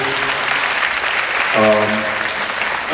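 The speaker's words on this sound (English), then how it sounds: "I want to give all of these 7th graders a very special round of applause." Applause from an audience at an 8th grade graduation ceremony for the 7th grade band, a broad steady wash of clapping with a brief voice or tone rising through it midway.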